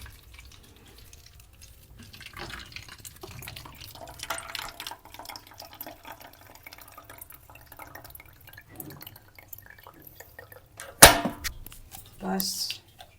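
Water pouring into a half-empty bottle at home, a soft trickling and dripping flow with a louder clunk near the end, voice faintly in the background.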